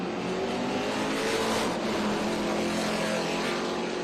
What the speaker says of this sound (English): Brody Goebel, yesterday's winner, out front with a fairly comfortable margin here.